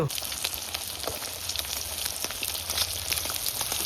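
Fish, a snakehead (shol), frying hard in hot oil, giving a steady dense sizzle with small crackles and pops throughout, close and loud, with no talking.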